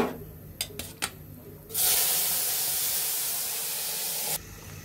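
Vegetables dropped into hot tempered spices: after a few small knocks, a sudden loud, broad sizzling hiss bursts up and holds steady for a few seconds before cutting off, close and without talk.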